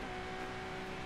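A Ferrari LaFerrari engine in Forza Horizon 5 holds a steady, tonal high-rpm whine under hard acceleration at speed, continuous and fairly faint, with no talk over it.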